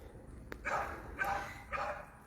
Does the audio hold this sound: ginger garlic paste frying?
no